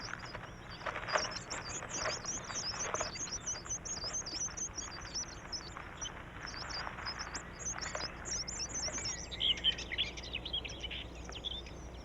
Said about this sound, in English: birds such as chaffinches, whose natural home is woodland, have adapted well to a domestic habitat